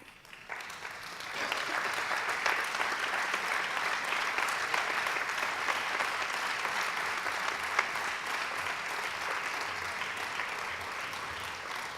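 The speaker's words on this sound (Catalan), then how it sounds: "Gràcies a això dels aplaudiments en un acte així" Applause from an audience at an indoor welcome event for a training day on territory and natural resources, a sustained, fairly even clapping that swells after a brief start and carries on for the whole stretch without voices.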